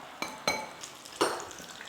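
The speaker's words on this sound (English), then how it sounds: "Cauliflower, now we are stir fry." Prawns, mushrooms and cauliflower with a little turmeric stir-fry in a pan, quiet and low, with a few soft scraping strokes of a utensil over a faint background sizzle.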